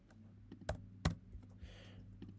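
Computer keyboard typing sounds in a few quiet, scattered keystrokes, with two sharper louder clacks standing out against a faint low background hum.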